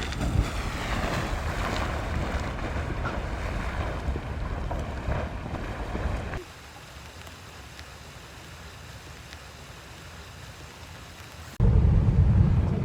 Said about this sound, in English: Now you can hear the steam.